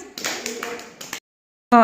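Children in a Grade 1–2 primary school classroom clap together in a brief burst of scattered, overlapping claps lasting about a second, followed by a pause and then a voice.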